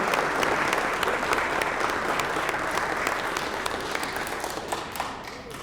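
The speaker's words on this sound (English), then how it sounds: "Give yourselves a big round of applause." An audience at a military retirement ceremony breaks into sustained applause, a dense, even wash of clapping from many hands that fades slightly toward the end.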